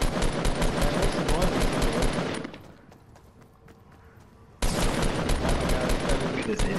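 Heavy automatic gunfire in Fortnite, dense rapid shots that pause for a couple of seconds and then resume just as loud, with voices talking underneath.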